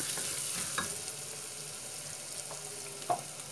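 Soft, steady sizzle from a sorrel leaf and meat curry frying in a pan as chili is added, with a few faint stirring clinks and no talking.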